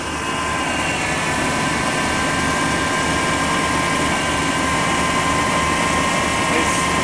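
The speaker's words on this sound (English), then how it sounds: "Nice smooth running engine." A 1989 GMC truck engine idles after a cold start, a steady, even droning hum with a faint whine, close and loud throughout with no change in pace.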